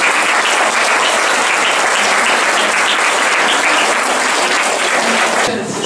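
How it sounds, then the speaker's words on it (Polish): Loud, dense applause from an audience at an international art contest award ceremony, many hands clapping steadily and evenly before breaking off abruptly at the end. "Brawa jeszcze raz."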